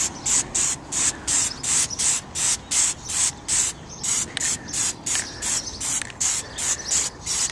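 A Plasti Dip spray can hisses in short regular bursts as a Jeep grill is coated, about two dozen close, evenly spaced sprays with brief gaps between them and no talking.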